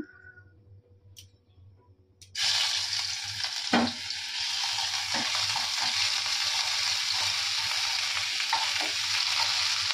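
Silence breaks into a sudden loud, continuous sizzle as cauliflower hits hot oil, with a few clinks of stirring as the frying hisses on steadily.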